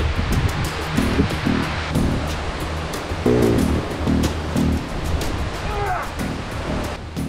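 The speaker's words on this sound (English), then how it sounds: "The waterfall was in flood." A flooding waterfall roars in a steady, dense wash of rushing water, loud and continuous throughout, with some brief knocks and faint sounds mixed in.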